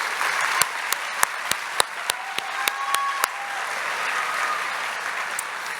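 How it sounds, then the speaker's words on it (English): Audience applause for the bands at a high school graduation ceremony, a broad continuous patter of many hands with a few sharp, close individual claps standing out early, fading slightly toward the end. "One more round of applause for our amazing bands."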